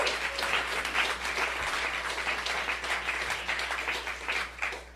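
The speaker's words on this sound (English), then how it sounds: "Yeah, you can clap for that." Steady applause from an audience at a Michigan state budget signing, dense clapping running throughout at an even level with no voices over it.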